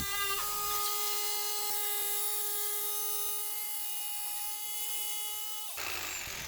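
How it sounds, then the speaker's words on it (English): A jigsaw cuts through wood for a full-size arcade cabinet build, a steady high-pitched whining buzz that holds close and loud for several seconds before cutting off, leaving a brief hiss of room noise. "you can make extremely straight cuts with a jigsaw with minimal filing and sanding after"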